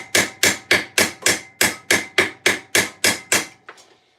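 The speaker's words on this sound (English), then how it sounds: "the secret to a well-peened rivet is the smallest ball-peened" Ball-peen hammer peening a steel rivet during armour making in a garage: about twelve sharp, evenly spaced metallic strikes at a steady quick rhythm, close and loud, ending with a lighter rattling tap.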